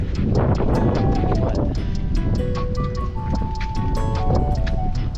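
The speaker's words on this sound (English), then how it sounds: "But there's more wind than I thought." Strong, steady wind roars and buffets at a kiteboarding beach, a dense continuous rush throughout with faint tonal notes drifting over it.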